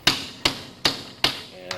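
A hammer strikes sheet metal held on a TuckPuck shaping tool over a shot bag, four sharp, evenly spaced ringing blows close up, with a fifth lighter tap beginning at the end.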